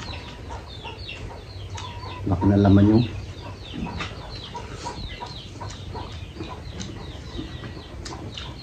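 A chicken being chased by a dog gives a short burst of loud clucking amid outdoor background noise, with people talking quietly nearby.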